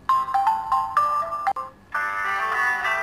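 A mobile phone ringtone plays as it is selected: a bright, repeating melody of short chiming notes, clear and close, that stops briefly and then restarts with a fuller, busier tune.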